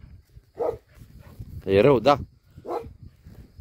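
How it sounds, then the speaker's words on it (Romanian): Large sheepdogs at a mountain sheepfold give a few short barks at moderate distance, spaced apart, while a person speaks briefly in between. "Sunt câinii mari cu oile."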